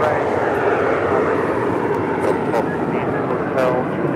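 A United Dreamliner airliner roars at LAX, a loud, steady broadband engine rumble close by, with radio chatter and voices over it.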